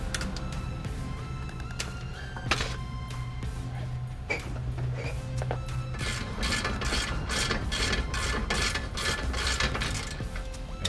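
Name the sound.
ratchet removing nut and bolt from Nissan 350z suspension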